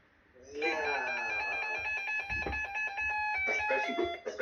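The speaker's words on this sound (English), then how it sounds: "Did I change the alarm socket? Because it's still going." A Reecom R-1603A weather alert radio sounds its alarm, a loud repeating electronic tone pattern with layered beeping pitches that runs continuously, with faint movement in the background.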